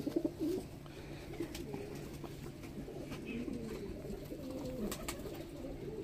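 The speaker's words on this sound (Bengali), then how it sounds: "হ্যাঁ, এটা নর পায়রা।" Male pigeon cooing at a loft, soft repeated throaty coos near the start and then low murmuring coos under quiet background noise.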